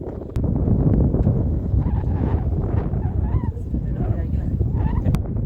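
Strong stormy wind blowing over a Sundarbans river during net fishing, a loud continuous rumbling buffet across the microphone throughout, with faint voices and bird-like calls mixed in.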